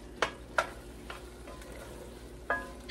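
Flour cooking in a pot to thicken a sauce for chicken pot pie, with a few quiet, sharp scrapes and taps of stirring over a faint low sizzle and no voices.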